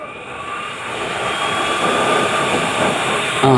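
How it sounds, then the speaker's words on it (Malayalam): A blower fanning a stove fire roars loudly and steadily, a broad rushing whoosh with a faint hum that gradually swells, with no voices. "ബ്ലോവർ പതുക്കി ഒന്ന് ഓൺ ചെയ്ത് അങ്ങോട്ട് കൊടുക്കണം."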